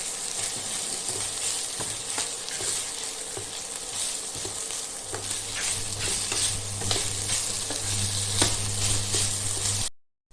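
Sprouted moth beans fry in hot oil for khichdi, a steady close sizzle with scattered pops and the scrape of stirring, plus a low hum beneath, ending abruptly.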